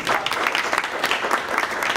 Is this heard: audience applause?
yes